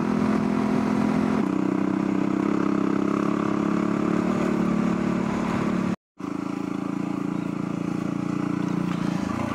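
A Yamaha WR250R dual-sport motorcycle engine drones steadily and loudly while riding off-road on a remote shortcut track in the Flinders Ranges, with a brief dropout midway and no speech.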